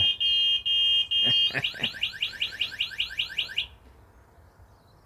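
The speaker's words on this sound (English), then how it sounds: "The alarm went, I think even the wind was blowing and the alarm just triggered that off" Anti-theft alarm on a DYU A1F folding electric bike sounding loudly nearby: a steady high electronic tone with short breaks, then a rapid chirping warble, then an abrupt stop.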